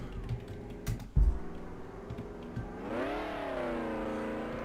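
Vehicle engine in a video game, a low rumble that rises into a smooth revving whine with shifting pitch after a few clicks and a thump, alone and moderately quiet.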